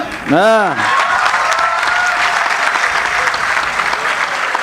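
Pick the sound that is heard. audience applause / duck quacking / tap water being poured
audience applause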